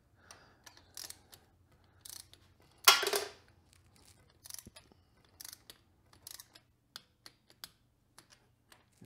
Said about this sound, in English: right now I'm installing the header caps, and I'm torquing them down to spec